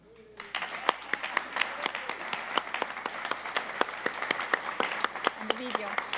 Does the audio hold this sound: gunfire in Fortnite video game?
no